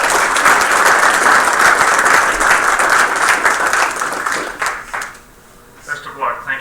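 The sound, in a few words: applause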